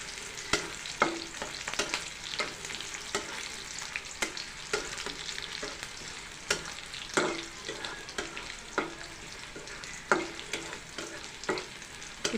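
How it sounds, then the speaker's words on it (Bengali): Chicken skin fries in a pan while being stirred, a soft continuous sizzle broken by irregular scraping and tapping strokes of the spoon against the pan, close and fairly quiet. "হালকা ব্রাউন কালার হওয়া পর্যন্ত নাড়তে হবে"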